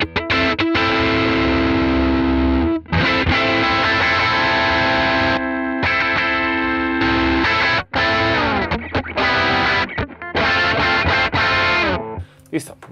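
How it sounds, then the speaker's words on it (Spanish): Electric guitar through the screamer overdrive of a NUX Trident NME-5 multi-effects pedal, loud crunchy driven chords and riffs played in bursts with short pauses between phrases. "me encanta el sonido del screamer."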